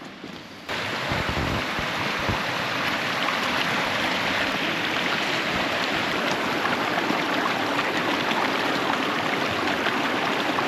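Wild stream water in the Alaskan backcountry rushes steadily and loudly, a dense, continuous wash that sets in after a brief quieter start and holds evenly throughout with no voices.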